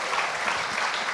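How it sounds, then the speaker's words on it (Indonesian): A stand-up comedy crowd gives a short burst of dense, even applause, close and continuous for about a second. "boleh tepuk tangan sekali lagi ya"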